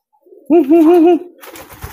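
A single soft, warbling pigeon coo, close and clear, lasting under a second, followed by faint background rustling.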